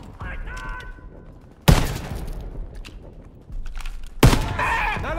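A volley of gunfire erupts in the World War II video game Call of Duty WW2, two loud sharp bursts of rifle fire a few seconds apart, mixed with shouting voices and battlefield noise.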